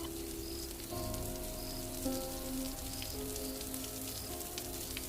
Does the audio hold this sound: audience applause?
no